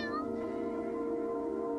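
A black cat meows in a dark room, one drawn-out, tonal cry with a rising then steady pitch that holds for nearly two seconds, close and fairly loud, with no talking.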